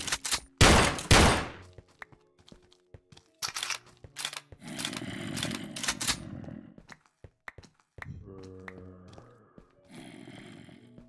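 Gunfire in a Minecraft Create modpack game, opening with a loud sharp shot and continuing as scattered bursts and single cracks. Low thuds, crunching hits and growling creature sounds are mixed in, with quieter gaps between them.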